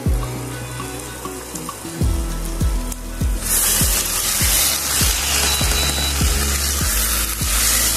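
Fried onions are stirred into spiced chicken in a pan, with a spoon scraping in a steady repeated rhythm under a loud, continuous sizzle and hiss.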